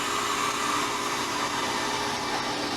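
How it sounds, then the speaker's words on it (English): A freeze dryer's drain valve opened on a chamber of cooked hamburger, letting a steady, loud broadband hiss of rushing air fill the space without pause and with no talk. "So open the drain valve."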